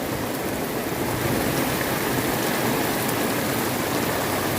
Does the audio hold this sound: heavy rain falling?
yes